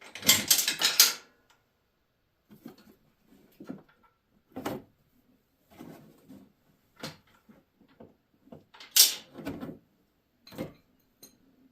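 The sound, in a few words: ratchet wrench on 18 mm bolt, Ford F150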